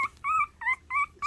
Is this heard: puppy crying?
yes